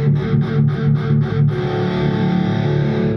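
Electric guitar played through the direct out of a Boss Katana 100 MkII amp with stereo expand switched off: a few rhythmic distorted strums, then a sustained ringing chord, loud and close with no talking.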